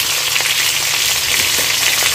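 Eggplant and bitter gourd frying separately in hot oil, a loud, continuous close sizzle with faint crackles and occasional utensil touches and no voices.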